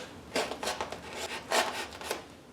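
A blade or file trims a model aircraft fuselage in a workshop, giving a series of short rasping, scraping strokes in an uneven rhythm, close and fairly quiet with no talk.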